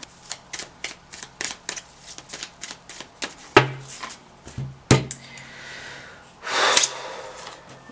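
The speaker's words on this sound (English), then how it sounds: "One more shuffle." Tarot cards are shuffled by hand in a rapid series of crisp riffles and taps, close and clear, followed by a couple of sharp card slaps and a brief breathy sound near the end.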